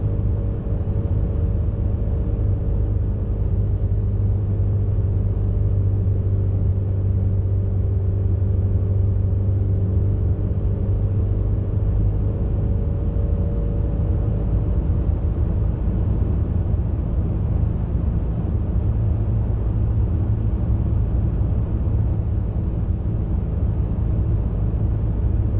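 Steady, loud engine drone of a light airplane heard from inside the cabin during instrument flight training, a continuous low rumble with a faint shifting tone, no talk.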